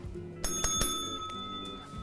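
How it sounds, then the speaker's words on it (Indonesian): A small service bell at a food stall in Ciledug, Jakarta, is struck three quick times, giving bright, ringing chimes that fade quietly. The bell is heard alone. "Kita panggil nanti pakai lonceng buat kita bisa ngobrol sama owner ya guys."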